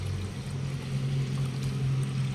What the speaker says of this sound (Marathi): तिसरं पाणी आपल्याला टाकून घ्यायचं भिजवण्यासाठी